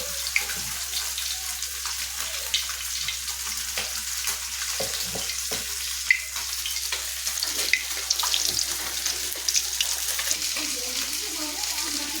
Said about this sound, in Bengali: পাউরুটিগুলোকে বেসনে দিয়ে তেলে দিয়ে দিয়েছি